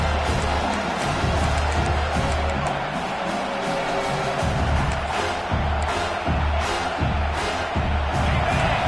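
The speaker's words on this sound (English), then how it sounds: "Here comes this home crowd as the defense tries to get off the field on third down." A dense, steady roar from a home crowd in the College Football 26 video game, cheering loudly on a third-down defensive play, continuous and full throughout.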